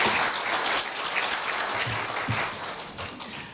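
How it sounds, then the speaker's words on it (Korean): An audience at a Korea University retirement ceremony for professors applauds warmly, a dense, steady clapping that fills the hall and tapers off gradually. "뜨거운 박수를 보내드립니다"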